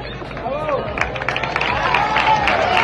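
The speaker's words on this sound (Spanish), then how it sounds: "Un fuerte aplauso para ella" An outdoor audience claps and cheers at a historical reenactment of a duel in La Fortuna, Leganés: steady, dense applause with crowd chatter and shouting voices running through it.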